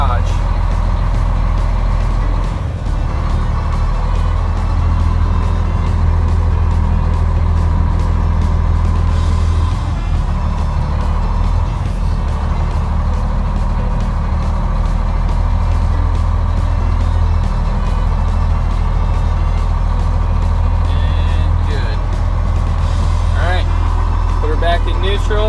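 A truck with a manual clutch rolls slowly out of a garage. A heavy, loud engine rumble holds steady throughout, with a beeping buzzer. Someone talks over the engine noise now and then.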